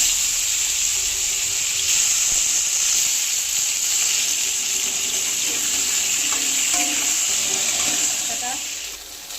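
Cucumber pieces fry in hot oil with black cumin and a bay leaf, a loud, steady broadband sizzle that holds throughout and eases slightly at the end, with faint stirring clinks.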